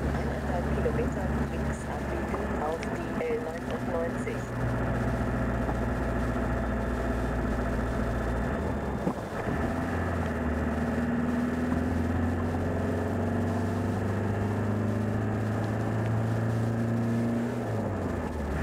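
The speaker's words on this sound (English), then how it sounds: "I've left as much of the original motor sound that I could, that you can experience the ride in this old camper with me." An old camper van's motor drones steadily from inside the cab on a winter drive through Harz National Park, Germany, with a low, even engine hum and faint tonal shifts throughout.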